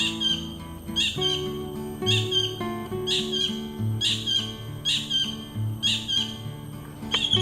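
Birds call by the river in the Sundarbans mangroves, bright chirps repeating roughly once a second over a steady low drone, moderately close and clear.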